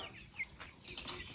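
Tiger chickens on a small farm of about fifty birds cluck softly, with short faint calls and a quiet chirp or two.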